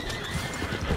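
A galloping horse gives a quick run of hoofbeats with a faint whinny, lasting only a moment.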